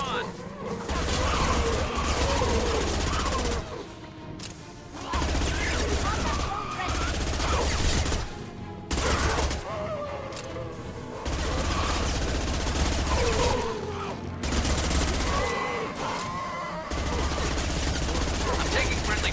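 Dense bursts of rapid gunfire in the video game Mass Effect 2 roar loud and close, coming in long sustained volleys broken by brief pauses, with only faint snatches of other sound between them.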